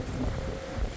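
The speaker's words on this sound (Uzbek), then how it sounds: "o ana shamol," Wind gusts roar as a tornado approaches somewhere in America, a steady low, rough rumble for a second with a slight swell near the end, no voices.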